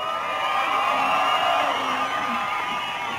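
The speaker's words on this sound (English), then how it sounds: "can we get a big round of applause" Crowd cheering, whooping and applauding at the 2017 Rip Curl Pro surf contest awards ceremony, a dense continuous roar of voices and clapping outdoors, loud and steady throughout.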